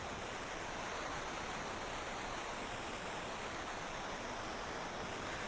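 Steady rushing waterfall at the Underground Falls area of the video game Final Fantasy IV, a constant broadband roar of falling water that stays even and unbroken throughout, with no voices.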